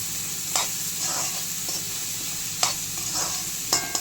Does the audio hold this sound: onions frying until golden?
yes